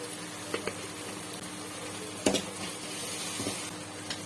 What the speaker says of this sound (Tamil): இப்போ காய்கறி ஆட் பண்ணுறேன்